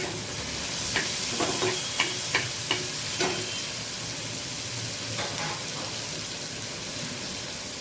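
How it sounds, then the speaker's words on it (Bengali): Onions frying in a pan along with already fried eggplant, a loud continuous sizzle with several sharp stirring clacks of a spatula against the pan. "বেগুনটা ভাজা হয়ে গেলে আমি পেঁয়াজ দিয়ে দিই।"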